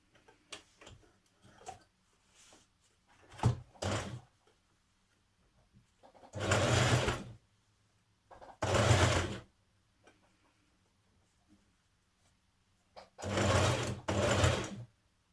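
A sewing machine stitches a spring dress in four separate bursts of rapid, even whirring and ticking, with quiet gaps and small handling clicks between them.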